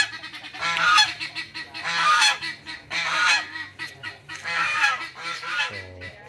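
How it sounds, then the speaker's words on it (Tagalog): A flock of geese honk repeatedly in loud, overlapping bursts nearby, a noisy continuous chorus with no talking. "Ito yung ating mga gansa."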